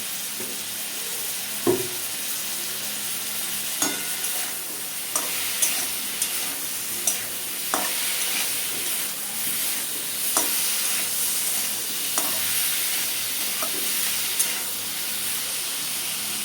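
Spiced fish curry with cauliflower and potato frying in a pan, a steady sizzle running throughout with soft, regular scrapes and clinks of stirring every second or two, close and alone with no voices.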